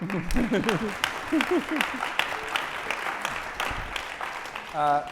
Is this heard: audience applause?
yes